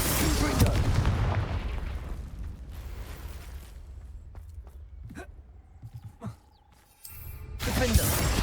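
Spell blasts and explosive booms in Hogwarts Legacy, a loud rumbling burst at first that fades into scattered crackles and pops, with a spoken incantation and a louder blast at the end.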